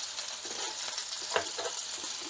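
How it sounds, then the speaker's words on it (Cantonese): Chicken wings fry in a pan, a steady close sizzle with light crackles and occasional stirring or clatter. "再煎佢，再冚蓋，煎5分鐘。"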